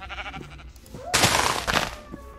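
A sheep bleats once in Minecraft, followed by a loud, noisy burst of game sound effects; short and fairly close.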